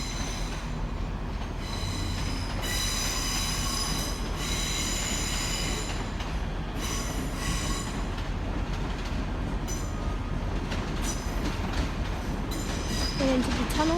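A Class 385 passenger train moves through Edinburgh Waverley station with a steady rolling rumble, high wheel squeal and rail clatter, loud and sustained for the whole stretch.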